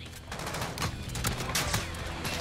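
Rapid bursts of Desert Eagle pistol fire in the Modern Warfare video game, with loud repeated shots crackling over dense, busy battle noise for the whole stretch.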